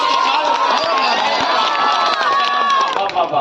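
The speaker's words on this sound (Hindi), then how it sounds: "एक बात दोनों हाथ मिलाकर तालियों से" A poetry recital audience at a kavi sammelan bursts into sustained, loud applause and cheering, a dense crowd roar with shouts that runs steadily for the full few seconds.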